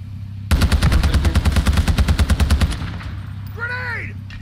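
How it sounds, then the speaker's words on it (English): Rapid automatic gunfire in the DMZ video game, a loud close burst of about twenty evenly spaced shots lasting two seconds, then fading into a short ringing tone and quiet background. "He's shooting at me."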